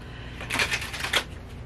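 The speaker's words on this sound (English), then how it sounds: "But I'm trying to get a good shuffle in here." Tarot cards being shuffled by hand, a few quick soft riffling bursts with short pauses, close and quiet, with no talking.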